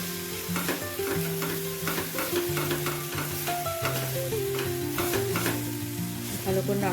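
Roasted coriander-cumin powder gets stirred into begun bharta, a mashed eggplant dish, in a pan, with continuous frying sizzle and repeated scraping strokes of a utensil against the pan; a steady background tone carries underneath.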